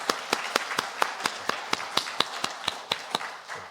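A church congregation claps in a sparse, steady rhythm of about four sharp claps per second, each crisp and distinct, ringing slightly in a quiet worship hall.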